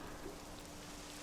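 Steady rain begins falling in the video game Dragon Quest XI: Echoes of an Elusive Age, a soft, even wash of drops that stays constant and fairly faint throughout, with no voices.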